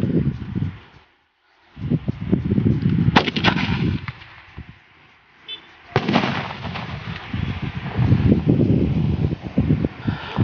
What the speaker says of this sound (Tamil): செம்ம சூப்பராக வந்து அந்த அவுட் வந்து வெடிச்சிச்சு